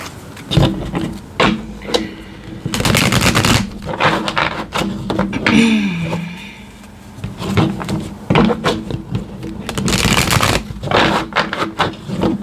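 Tarot cards shuffled by hand during a reading, heard as a run of dry riffling, slapping bursts that start and stop irregularly, close and fairly loud, with no talking.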